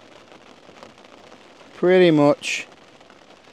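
Rain falls on a tent while wild camping, making a soft, steady patter that runs the whole time, with a brief spoken phrase and a short sound cutting in.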